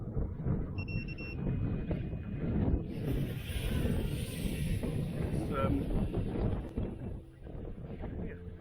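Steady wind rushes outdoors during a Flywoo hexacopter flight, with gusty buffeting against the microphone under a low rumble. A faint high tone sits above it, and a person talks briefly.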